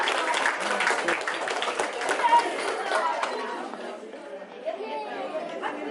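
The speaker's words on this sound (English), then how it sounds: "Let's give Nathan a big round of applause." Applause and cheering from students and families at a Woodbury Elementary School third-trimester awards assembly, a dense, steady burst of clapping and crowd chatter that thins out toward the end.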